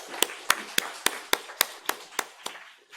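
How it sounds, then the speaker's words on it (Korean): Church congregation clapping together at a Sunday service, about ten sharp, synchronized claps in a steady even beat that fade slightly toward the end, with no talk over them. "우리 하나님께 감사와 영광의 박수를 돌리겠습니다"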